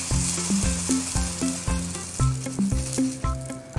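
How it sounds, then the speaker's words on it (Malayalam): Cauliflower frying in coconut oil in a hot pan, a close, crackling sizzle broken by repeated knocks and scrapes of stirring in an uneven rhythm. "ആ പാത്രത്തിൽ ഞാൻ കുറച്ച് വെളിച്ചെണ്ണ ഒഴിച്ചിട്ട് ആ cauliflower ഒന്ന് ചെറുതായിട്ട് മൊരിച്ചെടുക്കാൻ പോവുകയാണ്."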